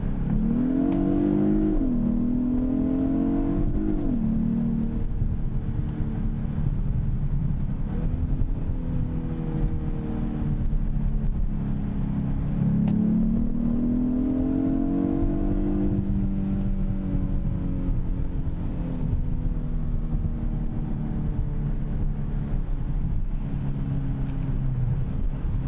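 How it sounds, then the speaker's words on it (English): 2021 Hyundai Sonata N Line in sport mode accelerating, with its virtual engine sound piped into the cabin: a steady droning engine note that rises in pitch through the gears, dropping at each shift, heard from inside the car. "In the sport mode, the virtual engine sound that comes from underneath the seat makes the ride more fun to enjoy"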